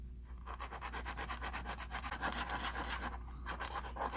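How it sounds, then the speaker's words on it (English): A hand file works metal in a circular motion on a Miranda Hornet refit: a faint, continuous rhythmic rasping of strokes close to the listener, with no talk. "I'm still trying to file in a circular pattern so that I don't end up getting a gouge"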